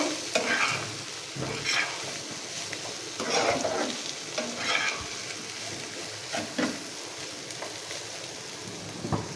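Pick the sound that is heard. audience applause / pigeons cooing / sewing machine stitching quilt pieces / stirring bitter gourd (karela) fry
stirring bitter gourd (karela) fry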